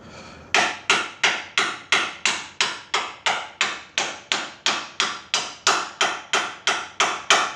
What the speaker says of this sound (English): I need to smack it a little bit, but what do I got here? I need something to smack it with.